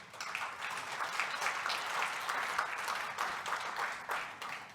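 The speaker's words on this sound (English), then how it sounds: "let's give a round of applause to all those individuals that was part of the solution" An audience at a charity event for the African Child Development Trust breaks into steady applause, a fairly soft, even spread of many hands clapping throughout, with no talk on top.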